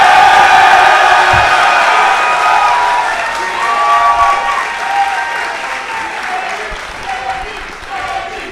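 Live audience cheering, whooping and applauding at a lively show, a loud sustained roar of crowd noise with some shouting voices mixed in that eases slightly toward the end.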